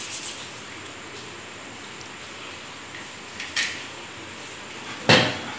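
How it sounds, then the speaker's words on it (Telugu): A small metal disc from a sewing machine is rubbed smooth by hand, a soft continuous scraping close up, broken by two brief sharp clicks near the middle and end. "ఈ బిళ్ళకు కూడా కొంచెం నైస్గా దుద్దండి"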